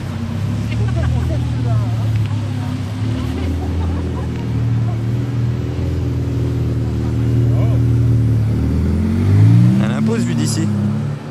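A Bugatti Chiron Sport pulls away with a deep, rumbling engine note that rises in pitch as it revs and accelerates, while people talk nearby amid crowd noise.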